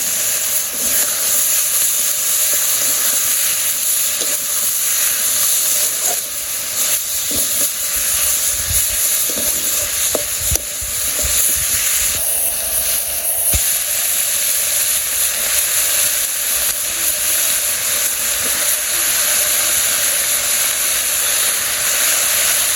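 Potatoes and taro go into a hot pan and set off a steady, loud sizzle and hiss of frying that lasts throughout, with a few soft stirring knocks and no talking.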